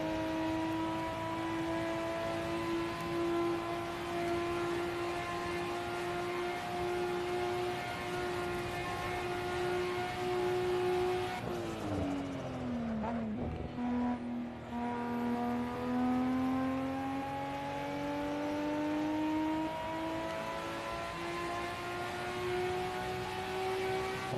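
A Nissan Skyline at full throttle in Assetto Corsa on the Nürburgring, a steady loud engine drone that dips sharply during a brief lift or shift around the middle, then climbs again without speech.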